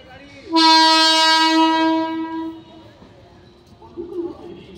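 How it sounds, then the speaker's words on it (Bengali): A train horn blasts long and loud as a slow train arrives, then fades into a rumbling approach with faint background voices near the end. "ট্রেন আস্তে আস্তে আস্তে আস্তে ধীম গতিতে আসছে।"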